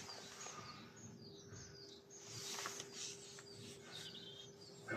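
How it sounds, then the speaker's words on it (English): Small birds, blue tits among them, call from the trees of a county park in short, repeated chirps and tweets, fairly distant and faint over quiet outdoor ambience. "loads of blue tits this side"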